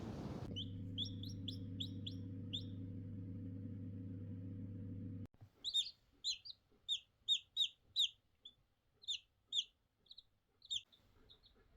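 Many small birds chirp in quick high bursts, repeated in a busy rhythm, after a steady low engine-like hum cuts off partway through.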